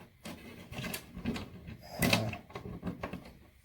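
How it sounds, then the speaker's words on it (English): Hand sanding a stripped wooden door, with uneven rasping strokes of paper against wood in an irregular rhythm, moderately loud and close, with a heavier scrape midway. "The doors. Now I'm gonna hand sand it."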